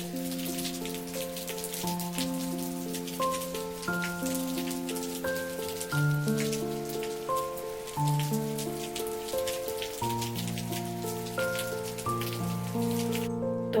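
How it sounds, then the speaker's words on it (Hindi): Steady heavy rain patters outside in Joshimath, a dense, continuous wash, with soft tonal music layered over it throughout. "तो इतनी तेज़ बारिश हो रही है बाहर"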